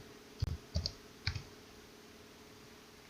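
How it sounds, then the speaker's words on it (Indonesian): Three sharp, quiet keystrokes clicking on a computer keyboard while entering a username and password, spaced unevenly within the first second and a half, followed by near silence. "Tinggal diketik username-nya, terus passwordnya, terus di login."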